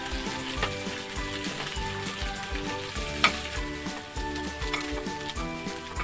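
Curry leaves and cumin seeds crackle in hot oil for a coconut chutney tempering. A loud, close, continuous sizzle carries sharp pops throughout, and a single bright crack stands out near the middle.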